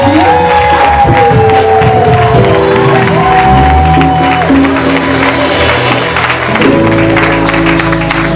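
A concert audience at a praise event cheers and claps loudly, a steady wash of crowd noise with shouts, while music tones and a voice carry over the top throughout.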